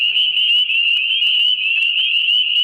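Wood frogs call in a marsh on an early spring night, forming a loud, steady, unbroken chorus with no voices.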